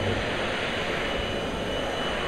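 A remote-controlled model helicopter at a model-building trade show, its rotors spinning in a steady, continuous whirring drone. The sound is fairly close and fills the whole stretch without a break.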